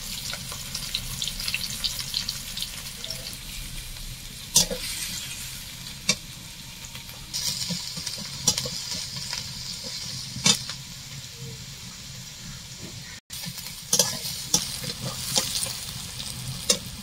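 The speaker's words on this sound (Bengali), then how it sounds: "তেল গরম হয়ে গেছে, এবার আমি পেঁয়াজটা দিয়ে দেবো।" Steady sizzling of onions frying in hot oil, with occasional louder clinks and scrapes from stirring in a pan; no voices.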